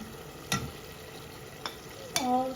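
Washed bean seeds fry with spices in a pan under a low, steady sizzle, broken by three sharp clinks of a spoon against the pan.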